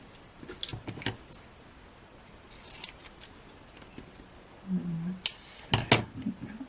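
Small scissors snipping small foam squares for decoupage crafting, a few short crisp cuts in scattered clusters, close and fairly quiet in an otherwise still room.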